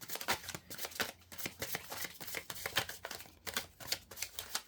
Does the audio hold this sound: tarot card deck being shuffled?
yes